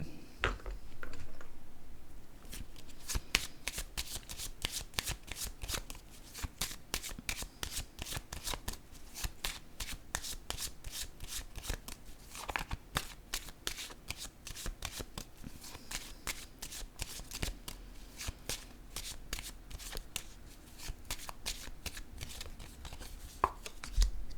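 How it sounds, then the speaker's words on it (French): Playing cards set down one after another on a table during a card reading, giving rapid, dry, papery flicks and taps that continue steadily for the whole stretch at close range. "Je vais déposer une autre carte ici."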